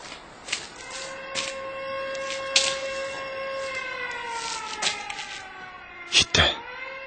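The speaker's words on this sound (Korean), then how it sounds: "뚜우하고 정오 사이렌이 울었다." A noon siren wails steadily through a city, long drawn tones holding for several seconds, with scattered clacks and knocks over it.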